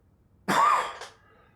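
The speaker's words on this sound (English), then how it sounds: "I still have to cough a lot" A single harsh, loud cough from a sick man, with a short second catch right after, in an otherwise quiet room.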